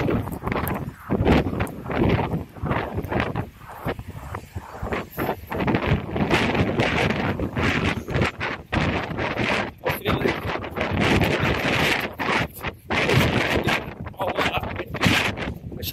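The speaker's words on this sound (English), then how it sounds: "Really strong headwind the entire time" Strong headwind buffets the camera microphone during a run, loud and continuous with gusty bursts and rumbling low-end battering throughout, no talking over it.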